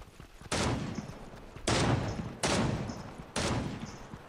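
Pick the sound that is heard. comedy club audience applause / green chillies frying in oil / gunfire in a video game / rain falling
gunfire in a video game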